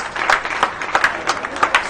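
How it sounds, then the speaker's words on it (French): Crowd applause at a French football match, RC Lens against Bordeaux, as an injured young Lens player is carried off on a stretcher; a short burst of steady, close clapping from the stands. "Et bien sûr applaudi par le public sénonais"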